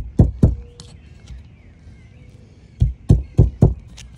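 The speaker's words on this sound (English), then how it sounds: "I'm just going to try to hit them from the back side here to knock them free." Sharp metallic knocks from hammering old seals out of a Minn Kota Ultrex trolling motor, two hits, a pause, then a quick run of four loud close blows.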